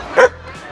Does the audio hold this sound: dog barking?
yes